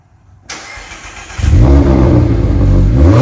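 After a brief quiet moment, a Mazda MX-5 Miata ND engine with an aftermarket Cobra center-exit exhaust cranks and fires up, roaring loudly with a deep, throaty exhaust rumble that settles into a strong steady drone.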